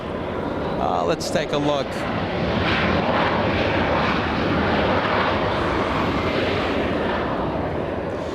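An Embraer E-175 jet touches down at LAX, a loud, steady roar of engine and rushing air that fills the whole clip, with a brief spoken remark near the start.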